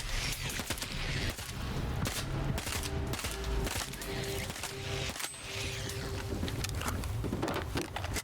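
Bursts of assault rifle fire in the shooter game Stalker 2 against a swarm of rodents, rapid cracking shots that repeat steadily over several seconds amid the dense noise of combat.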